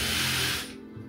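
A power drill whirs loudly and steadily for about half a second, then cuts off, leaving a quiet room with low background hum.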